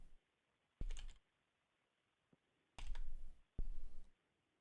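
Keys clack on a computer keyboard in short quick bursts separated by quiet gaps, close and fairly faint, with a lone tap in between.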